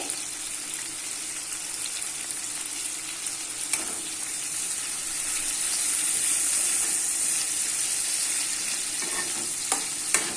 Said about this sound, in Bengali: নাড়াচাড়া করে কিছুক্ষণ ভেজে নেব।